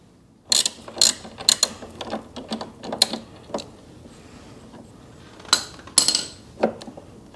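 A number 5 Allen key backs screws out of a passing light assembly on an Indian Chieftain Limited motorcycle, giving a series of close, sharp clicks and ratcheting ticks in irregular bursts, with quiet gaps between.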